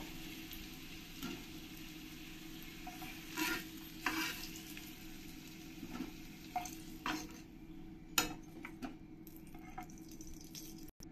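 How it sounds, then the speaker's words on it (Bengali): Potatoes fry in hot oil for a chicken curry, with a continuous quiet sizzle and bubbling under occasional clinks and scrapes of a stirring utensil against the pan. "এই আলুগুলো আমি একটু ভেজে নেব, ভালো করে লাল লাল করে আমি ফ্রাই করে নেব।"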